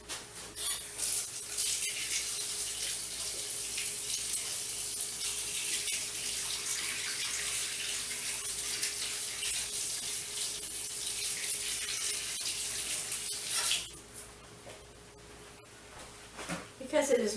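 Tap water pours steadily into a mixing bowl at a kitchen sink, a loud continuous hiss that cuts off abruptly near the end, with a voice talking over it.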